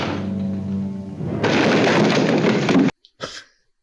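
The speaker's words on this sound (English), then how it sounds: "He fell down the stairs." A man tumbling down a staircase in the 1944 film Arsenic and Old Lace: a loud, sustained crashing rumble breaks in after soft tonal music, then cuts off abruptly, followed by a couple of short thuds.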